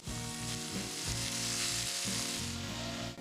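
Pork belly sizzles loudly and steadily in a hot wok, with occasional scraping of a utensil under the constant crackle.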